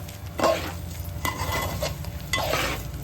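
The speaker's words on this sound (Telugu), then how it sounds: "అడుగు పట్టకుండా కలుపుకోవాలండి" Spices for Hyderabadi bagara rice are stirred in a pot, with three or four distinct scraping strokes of a spoon over a quiet, low sizzle, close by and with no voices.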